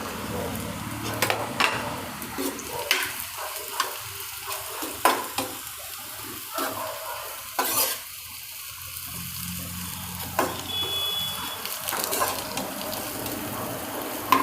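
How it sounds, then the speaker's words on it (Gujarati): Thepla pieces fry in a pan while being stirred, a soft hiss underneath scattered sharp scraping clicks and spatula knocks, fairly quiet and close with no talking. "હવે એમાં આપણે આ નાખી દઈશું થેપલા"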